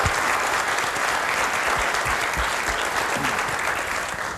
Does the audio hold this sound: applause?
yes